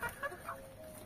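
Chickens kept with lovebirds in a pen give a few short, soft clucks in quick succession, fairly faint against a quiet background.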